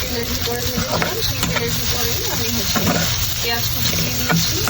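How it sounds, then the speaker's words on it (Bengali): Chopped onion fries in hot oil for a prawn curry, producing a dense, steady, close sizzle with faint stirring over it. "সেই তেলের ভিতরে আমি হচ্ছে পেঁয়াজ কুচি দিয়ে দিয়েছি"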